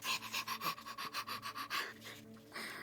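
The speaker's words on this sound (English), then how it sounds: "if you can hear my dog panting in the background" A dog pants close by in quick, steady rhythmic breaths that continue throughout, briefly fading before picking up again.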